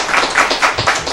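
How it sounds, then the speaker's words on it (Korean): A studio audience applauds a panelist at a Seoul education superintendent candidate debate, a steady wash of clapping hands lasting about a second with no voices over it. "네, 박수 한번 할까요?"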